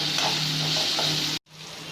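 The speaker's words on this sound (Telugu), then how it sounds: "ఇప్పుడు ఇందులో టమాటా వేయాలి. మళ్ళీ కొద్దిగా ఫ్రై చేయాలి." Mushrooms and tomato fry in a pan with a loud, continuous sizzle and light stirring scrapes nearby, broken by a brief cut before the frying resumes.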